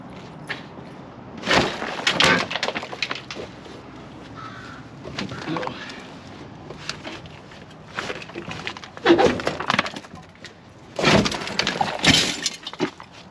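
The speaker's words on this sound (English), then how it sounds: "Hear all that glass?" Broken glass rattles and tinkles as the seat is lifted inside an old Ford Falcon. Clustered crunchy bursts come close by with pauses between them, and a crow caws somewhere outside.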